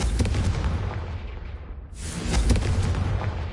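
Confringo fire spell blasts in Hogwarts Legacy, loud booming bursts with a roaring rumble, a brief dip in the middle, then a second surge of crackling explosions, with no speech.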